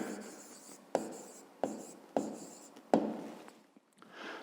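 A pen scratches out a handwritten answer in a quiet room, with several short bursts of writing separated by brief pauses, close and fairly soft.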